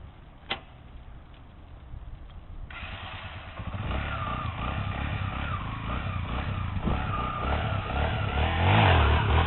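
A motorcycle engine revs steadily, building louder toward the end, with a sharp click near the start and a stretch of low idle before the engine noise swells.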